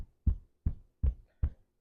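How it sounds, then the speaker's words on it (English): Rhythmic tapping on the chest just below the collarbones: four soft, dull thumps spaced evenly about every 0.4 seconds, close and quiet with no talk. "just below the collarbones, and tapping. Just noticing that sort of rhythmic sound"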